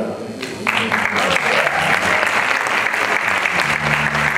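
Dense, sustained applause from an audience at a cumbia jazz performance, loud and continuous throughout with no pauses.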